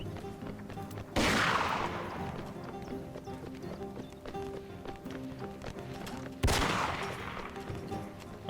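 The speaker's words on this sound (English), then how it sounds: "Got artillery shots coming in. Shots whizzing past." Two heavy artillery blasts boom in a video game battle, each a sharp loud crack that trails off into a rumbling decay, several seconds apart over a steady bed of distant battle noise.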